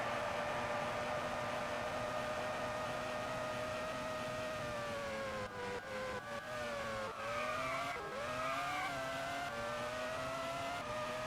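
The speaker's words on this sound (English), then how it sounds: "You hear the other cars droning in the background." Formula 1 racing game at Magny-Cours, with race car engines droning steadily throughout, their pitch rising and dipping as they shift gears and accelerate, a continuous layered engine tone with no talking.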